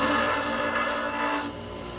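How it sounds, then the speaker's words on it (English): Rust is scrubbed off a Ford truck clutch pedal with a steady close rasping rub that stops abruptly partway through, leaving quieter background noise. "I'm just getting the rust off of it."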